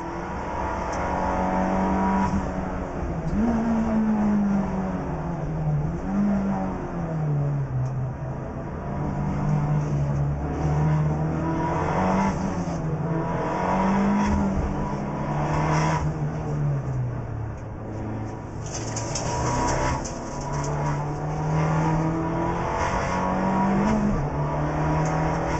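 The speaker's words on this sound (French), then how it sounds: "On revoit le départ à bord de la voiture de Pierre-Yves Cortals, et effectivement, c'est chaud." Onboard a Fiat Abarth race car at a Trofeo Abarth race start, Nürburgring or Zandvoort, the engine drones loud and close throughout, pitch rising and falling through gear changes with no talk.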